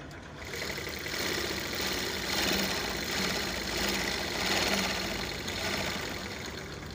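A sewing machine stitches after its shuttle timing has been adjusted and oil added between the needle points. It gives a steady, fairly loud mechanical whirr with a fast repetitive clatter that holds for the full seven seconds, with no talking.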